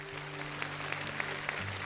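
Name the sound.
audience applause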